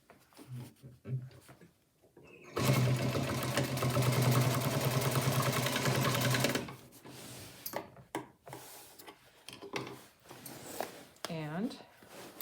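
A sewing machine runs steadily for about four seconds, stitching a Vakoflex adjustable curtain heading strip onto fabric, bracketed by quieter handling noises and a person talking before and after.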